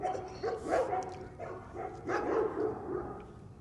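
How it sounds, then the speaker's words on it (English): Several dogs bark in short, irregular bursts at a moderate distance, with occasional yelps between them. "These dogs bark all day, every day."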